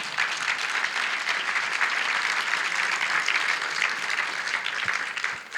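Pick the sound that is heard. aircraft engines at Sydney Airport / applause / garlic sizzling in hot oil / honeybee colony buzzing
applause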